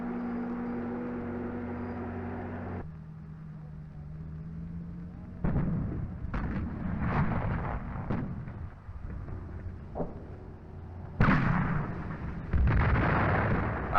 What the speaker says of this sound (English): After the artillery barrage,